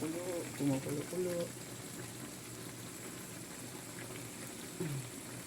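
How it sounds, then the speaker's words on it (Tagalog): A steady bubbling simmer of coconut milk boiling in a pot, with a brief bit of talking near the start and a short voice near the end. "Ayan, kumukulo."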